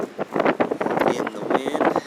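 Wind gusts buffet a microphone outdoors during a March–April shed hunt in Colorado, producing rough, close, fluttering rumble in uneven bursts across the short stretch.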